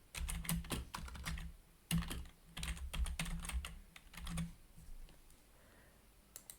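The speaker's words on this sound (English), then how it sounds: "I'm going to type in all caps table of contents." Quick, light keystrokes click on a computer keyboard in close, rapid bursts with short pauses, tapering off toward the end.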